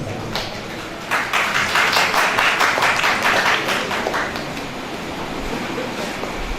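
An audience at a Pakistani poetry mushaira in Layyah breaks into applause, a steady patter of many hands clapping for several seconds before easing off, with a voice faintly under it.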